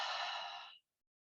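One long, airy breath drawn through the nose or mouth, steady and close, fading out abruptly after under a second, followed by silence.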